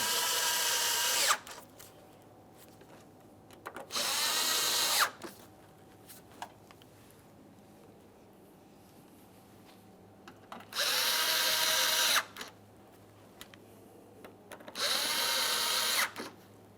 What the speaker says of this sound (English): We'll tighten those 4 mounting screws.